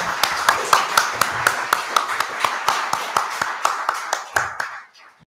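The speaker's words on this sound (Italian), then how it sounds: "Bene, facciamo ancora un applauso al rettore Tommaso Montanari," Sparse applause from a small lecture audience, distinct individual claps in an uneven rhythm, fading to a stop near the end.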